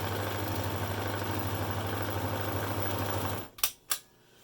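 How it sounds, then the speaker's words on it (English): An overlocker stitching along the top edge of a sewn fabric face mask: a steady, loud mechanical whir for about three and a half seconds, then stopping, followed by two sharp clicks. "I'm just going to overlock a small section along the top, just a couple of inches in"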